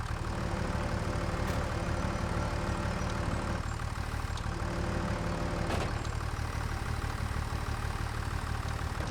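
A tractor engine idles steadily in the farming game Farming Simulator 25, a constant low rumble with a few faint clicks and mechanical knocks, no voices.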